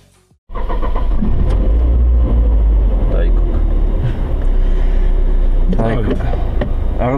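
A car engine drained of every drop of oil, being run to see whether it lasts 50 kilometres, starts after a brief quiet and then runs loudly and steadily up close, with people talking over it.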